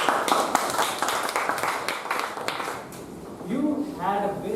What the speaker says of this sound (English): A very big round of applause for that.